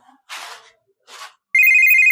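A telephone in a comedy skit starts ringing with a steady, loud electronic tone after two short bursts of voice sound, the ring continuing unbroken to the end.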